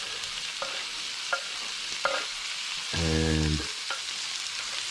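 Sliced carrot frying in a pan with savoury mince, a low continuous sizzle broken by a few sharp utensil clicks and a brief louder scraping stir, one word spoken briefly.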